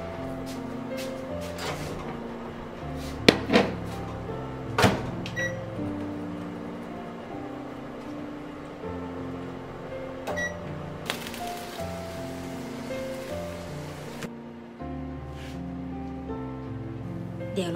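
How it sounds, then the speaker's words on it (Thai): Microwave oven heating fried tofu and pork hamburg steaks in a home kitchen, a low steady electric hum with scattered clicks and clunks, a brief louder hissy stretch midway, close by with no talking. "ด้านในเราจะใช้ไมโครเวฟเป็นตัวช่วยค่ะ"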